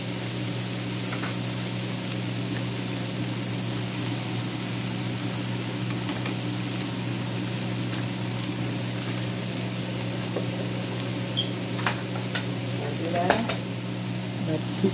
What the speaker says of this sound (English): And we just stir fry that.